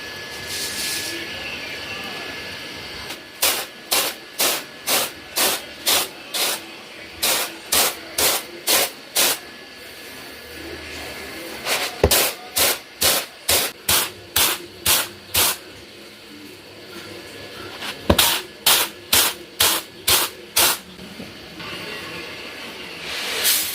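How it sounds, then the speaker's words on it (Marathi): Pigeon pea (toor) dal is winnowed by hand in a village setting, giving rhythmic rustling swishes. Each stroke is a sharp burst, and they come in three fast runs of about eight to ten, with short pauses between runs. "तर आता आपल्याला पाकडायला घ्यायचं आहे"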